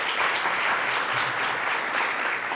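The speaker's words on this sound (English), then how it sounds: "So let's give him a round of applause." Steady, dense applause from a large crowd fills the whole moment, even and sustained without talk.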